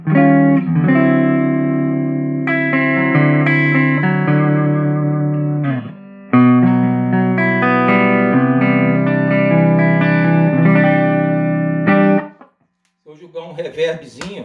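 Clean Godin electric guitar on its neck single-coil pickup through a Joyo Bantamp Firebrand amp plays sustained chords and melodic notes loudly. It pauses briefly midway and ends with a short stop before a few scattered notes.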